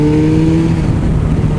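A 2008 Suzuki Hayabusa motorcycle being ridden gives a steady, loud engine drone with a clear humming tone, heard up close and briefly without any speech.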